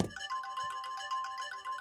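A stock Samsung Galaxy S2 ringtone on Android 4.0.3 plays a quiet, bright, repeating melodic phrase of chiming tones with a steady pulse and no voices.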